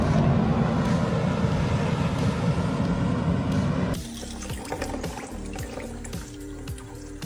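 Water gushes and surges out of ground that has burst open, a loud, steady rushing roar that changes character partway through, turning more broken and splashy with scattered bursts.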